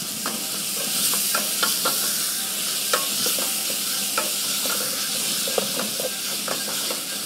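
Sofrito sizzles steadily in a pan, a continuous frying hiss broken by frequent light clinks and scrapes of stirring, close and fairly loud with no talking.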